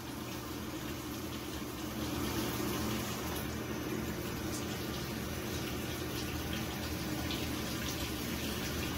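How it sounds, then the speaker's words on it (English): A GE HE washing machine takes on water, giving a steady, continuous rushing and hissing of filling that stays constant throughout, with no voices present. "I'm not quite sure why it's putting more water in just by opening and closing the lid."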